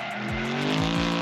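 A 700 hp Audi RS6 drifting, engine revving hard with tires squealing and skidding across the surface; a short, loud, close burst with pitch sweeps from the engine.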